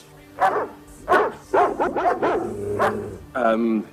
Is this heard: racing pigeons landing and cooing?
no